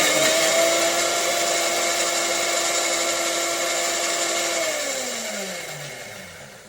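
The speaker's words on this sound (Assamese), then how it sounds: "এতিয়া আকৌ মিক্সি জাৰটো মাৰি দিম।" A mixer grinder jar blending condensed milk for ice cream whirs steadily at a high, even pitch, then its motor winds down and the tone slides lower near the end.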